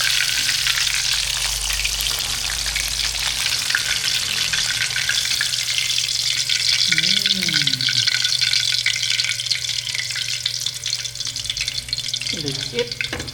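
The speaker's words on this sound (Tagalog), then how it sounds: "nakaluto na po tayo mga paps ng pritong tilapia" Tilapia frying in a pan, a strong continuous sizzle and spatter with brief voices murmuring faintly underneath.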